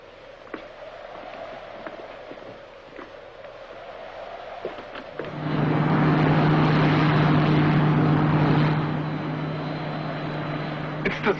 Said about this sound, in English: Mr. Secretary, a Space Ranger ship is landing.